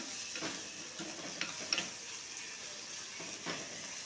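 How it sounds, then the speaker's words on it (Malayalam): Garlic and ripe tomato sautéing in a pan, a faint soft sizzle with a few light stirring scrapes and taps, close by and without talk. "പിന്നെ പഴുത്തൊരു തക്കാളിയും കൂടി ഇട്ട് കൊടുത്ത് നന്നായിട്ടൊന്ന് വഴറ്റിയെടുക്കണം"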